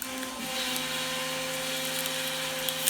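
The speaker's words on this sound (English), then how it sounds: "This is the third one that is coming off of the CNC machine." An X-Carve CNC machine carving plywood bump stops, heard as a steady, moderately quiet whirring drone of the spindle and router cutting, continuous with no talk.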